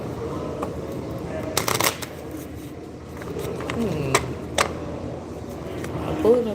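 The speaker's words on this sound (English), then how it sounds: "I'm pulling a card on this" Tarot cards are shuffled and pulled from the deck, giving a few sharp riffling bursts and soft flicks close up, while a person keeps talking over them.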